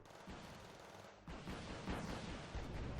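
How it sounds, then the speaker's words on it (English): A KA-29 helicopter unleashes a rocket barrage in Wargame: Red Dragon, a dense continuous roar of rapid blasts and rumbling impacts that swells louder partway through, with no voices. "nice rocket barrage from the KA-29, which destroyed one of the squads"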